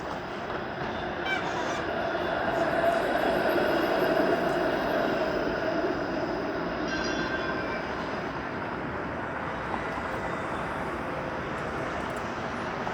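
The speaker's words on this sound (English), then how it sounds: "there's the 504 King Street streetcar" A 504 King Street streetcar rolls past on a downtown Toronto street, a steady rumbling rail noise that holds at a fairly even level for the whole stretch, with traffic and city ambience around it.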